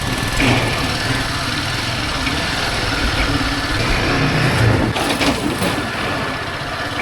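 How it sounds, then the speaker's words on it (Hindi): A motorbike engine runs steadily while riding across a bridge toward the Sangam, a continuous close hum with wind noise throughout and no talk. "बाइक का फ़ायदा देखो, सीधा संगम पे जाएगी बाइक हमारी।"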